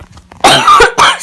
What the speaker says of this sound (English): Still got a bad cough.